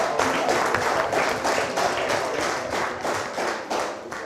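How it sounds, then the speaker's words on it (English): Rhythmic clapping from an audience at a town hall meeting honouring a group of young ladies, a steady beat of claps at moderate volume throughout. "Give them another round of applause."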